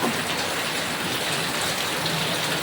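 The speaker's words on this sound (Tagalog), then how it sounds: "Ang lakas ng ulan ah." Heavy rain pours down steadily with water leaking and dripping through, a dense, constant hiss of drops drumming on surfaces, loud and close with no pauses.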